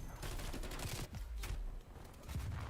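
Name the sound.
Gallo SA-12 shotgun firing in a video game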